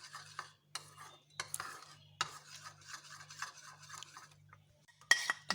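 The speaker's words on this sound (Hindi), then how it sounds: "इसको अच्छी तरह मैं मिक्स कर लूँगी।" A milk mixture is stirred in a pot on an unlit stove, with repeated scraping and clinking strokes of a spoon against the pot, close and fairly quiet, under a low steady hum.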